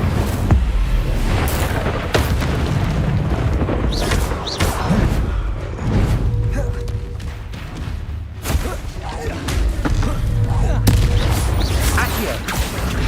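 Confringo and Incendio spells fire in the video game Hogwarts Legacy, a run of loud, booming blasts and crackling bursts in quick succession, layered over game sound and voices.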